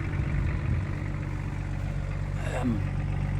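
Engine of a Range Rover P38A idling with its exhaust running, a steady, loud low rumble with a constant droning hum, close by, with a brief faint voice or noise partway through.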